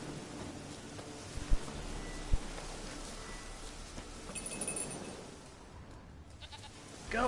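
A goat in The Witcher 3 bleats faintly a few times amid quiet ambient game noise, with a couple of soft thumps and no speech.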